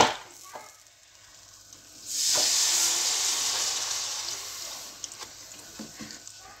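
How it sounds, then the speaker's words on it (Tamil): Milk pours into a hot pan of butter and flour for white pasta sauce, setting off a sudden loud sizzle that hisses steadily for several seconds, with a few light clinks of stirring near the end. "ஸோ நான் ஒரு ஹாஃப் கப் அளவுக்கு பால் ஊற்றியிருக்கேன்"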